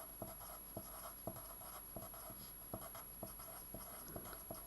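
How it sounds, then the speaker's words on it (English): Pen writing on a page of paper, quiet and close, with regular scratchy strokes and small taps repeating about twice a second, no voices. "on the other side of the page I'm going to write down the unknown vector"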